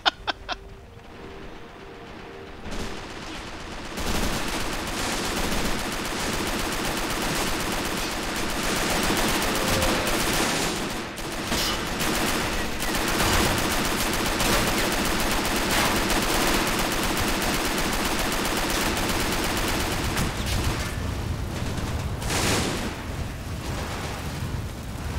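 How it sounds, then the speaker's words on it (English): Sustained machine gun fire in a WW2 video game, long stretches of rattling bursts mixed with distant explosions and battlefield din, steady and loud for about twenty-five seconds. "I got a machine gun covering that approach"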